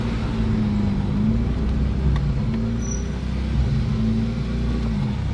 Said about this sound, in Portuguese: vamos passar na lombadinha aqui